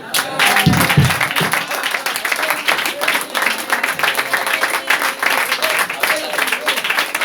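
A church congregation applauding, dense and steady clapping that fills the whole stretch, loud and close, with voices calling out under it.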